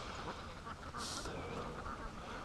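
Ducks quack near a lake on a mosquito-filled morning, a steady wash of calls and rustling continuing throughout, with one brighter burst standing out briefly in the middle.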